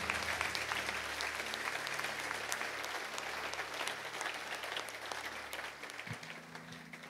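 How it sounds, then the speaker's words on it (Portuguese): A church congregation gives a steady round of applause for Jesus, dense and fairly loud, with a low organ-like hum underneath that shifts near the end as the clapping tapers. "Dá uma salva de palmas a Jesus por esse momento"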